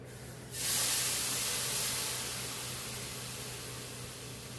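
Tamarind water splashes into a hot cooking pan for a ginger curry, setting off a sudden loud hiss that flares up and then slowly settles into a steady fizz.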